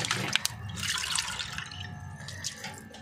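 Tiny dried shrimp are rinsed repeatedly in water, with close splashing, sloshing and a few sharp drips over a few seconds.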